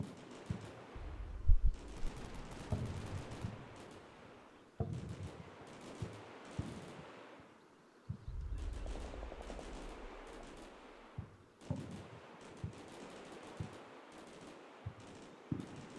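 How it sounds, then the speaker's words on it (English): Rapid bursts of small arms fire in the video game Combat Mission Shock Force 2 crackle repeatedly, some volleys close and sharp, others distant, with heavy thumps rumbling underneath. "it sounds like there's quite a lot of small arms fire as well"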